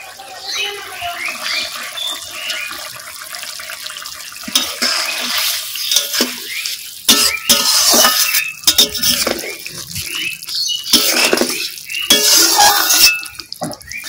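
Shing fish curry with potatoes gets ground garam masala stirred in: intermittent clinks and scrapes of a spoon against a metal pot, with bursts of bubbling and sizzling over a quiet kitchen background.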